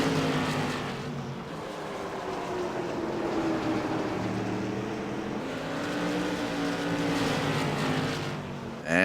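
Tour Modified race cars at Irwindale Speedway snarl around the oval at a distance, a faint, continuous engine roar that rises and fades as the pack pulls out of the turn onto the straightaway.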